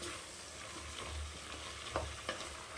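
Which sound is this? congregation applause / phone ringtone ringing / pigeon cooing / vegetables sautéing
vegetables sautéing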